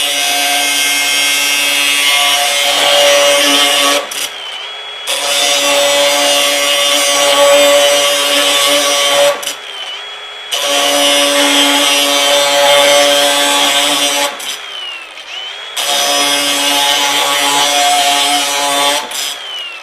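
An abrasive wheel cuts through solid steel in four long passes, each a loud, harsh, high-pitched grinding whine. Short near-silent pauses separate the cuts.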